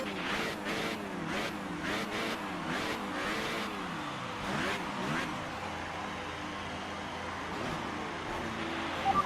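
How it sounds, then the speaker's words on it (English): An F1 car engine in the F1 2018 video game revs repeatedly at the race start, sharp rising and falling bursts in quick succession that then settle into a held, droning high-rev whine. "Rev up. Build some revs and hold them."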